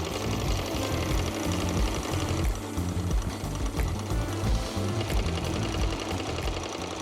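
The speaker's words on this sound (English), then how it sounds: "And then I will do the top stitching on the entirety of the outside of the jacket." A sewing machine runs steadily, top stitching the outside of a French chore coat jacket with a dense, continuous mechanical whir that holds at an even loudness for the whole stretch, with no voices.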